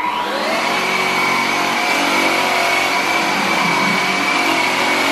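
A red cordless upright vacuum cleaner runs close by with a loud, steady motor whine that settles into an even hum, then cuts off abruptly at the end.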